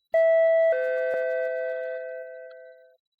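A two-tone doorbell chime rings through a mountain inn in a video game, one clear ding-dong followed by a long ringing decay, heard alone and fairly loud.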